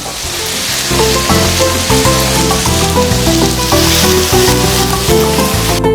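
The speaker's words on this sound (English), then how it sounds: "Let's add our chopped tomatoes." Chopped tomatoes sizzle and fry steadily in a paella pan with Serrano ham, a loud continuous crackle running the whole time with no talking.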